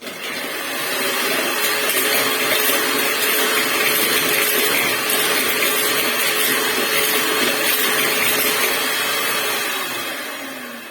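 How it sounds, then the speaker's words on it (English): Electric mixer running on high speed as it beats batter with granulated sugar, a steady whirring motor drone that rises in, holds for about ten seconds and tapers off, close and loud with no talking. "And then I'll mix this on high speed."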